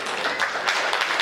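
Audience applause at a Hindi comedy poetry gathering, a steady, moderately loud patter of many hands clapping with slight surges.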